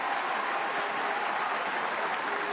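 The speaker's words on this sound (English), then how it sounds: "that's the big cheer you are hearing" A stadium crowd at a Cork versus Kerry Munster Gaelic football final roars and applauds as a star player enters, a steady, dense wall of cheering and clapping, loud and distant-sounding, with no voice above it.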